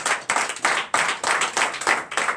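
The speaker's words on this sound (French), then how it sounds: "Donnez l'acclamation à Jésus." Worshippers at a night deliverance and prophecy service clap for Jesus in a loud, rhythmic unison beat, roughly three claps per second, close and sustained without talk.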